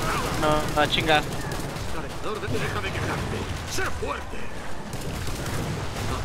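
Rapid bursts of gunfire in the video game Killing Floor 2 crackle through the clip, mixed with game sound effects while a person talks over the action.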